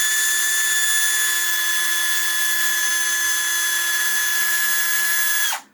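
A power drill bores into the plastic housing of a Hori RAP 4 Hayabusa arcade stick, a steady high whine with strong tonal harmonics running nearly six seconds before spinning down abruptly at the end, loud and close with no talk.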